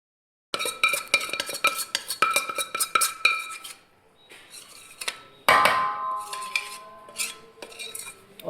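Liquid jaggery solution poured into a metal bowl and mixed, with steady clinks and scrapes of a spoon against the pot, a pause, then a louder clatter followed by more stirring.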